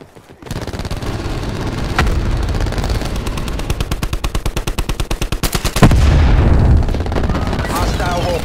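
In the Black Ops 4 video game, loud sustained automatic gunfire rattles in rapid bursts while a frag grenade blast booms partway through, followed by more firing and low rumble.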